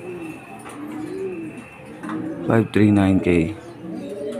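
Racing pigeons coo softly at a loft in the Philippines, low throaty calls repeating near and clear, with a voice speaking over part of it.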